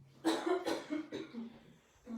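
A few harsh allergy coughs in quick succession, close and fairly loud, trailing into a short pause and one more rough cough.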